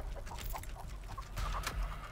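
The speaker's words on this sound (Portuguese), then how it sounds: "Eu esqueço dessas galinhas" Chickens clucking in a video game, several short soft clucks over a steady noisy background, with no talking.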